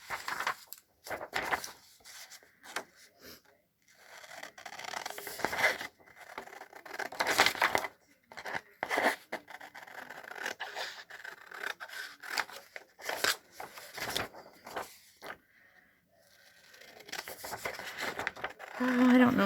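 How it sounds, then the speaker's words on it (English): Paper being cut with scissors to trim the edges of sheets for a handmade journal, with repeated crisp snips and rustling of the paper, close and fairly loud, in bursts with brief pauses. "Let's cut these edges off."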